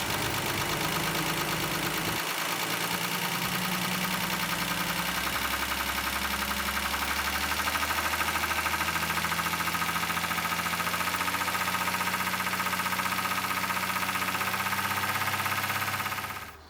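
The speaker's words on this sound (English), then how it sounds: "And now I will increase the engine speed to 2000 RPM" A Ford Granada 2.8i engine revved up to about 2000 RPM during ignition timing checks, giving a loud, steady, close mechanical drone after a brief rise near the start, holding until it cuts off at the end.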